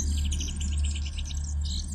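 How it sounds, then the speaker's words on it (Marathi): Sparrows chirp in a tree in a quiet village setting, a rapid series of bright, repeated tweets in bursts over a low steady background hum, close and clear with no talking. "चिमण्यांचा झाडावर चिवचिवाट सुरू होता."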